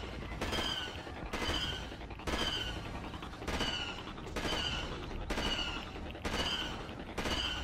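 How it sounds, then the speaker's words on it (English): Blaster rifle fire at droids in a Star Wars video game comes as a series of about eight evenly spaced loud bursts, each a rapid cluster of shots with a ringing tone. "I'm just gonna shoot at him from a distance"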